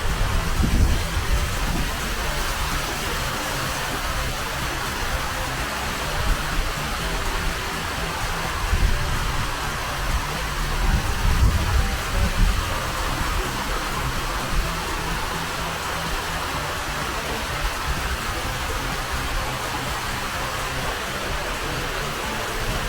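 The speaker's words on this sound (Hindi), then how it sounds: "और पानी की आवाज इतनी खूबसूरत लग रही है ना।" Fountain water splashes steadily in an English town centre, a loud, continuous broadband rush like heavy rain with no breaks, heard close up and alone.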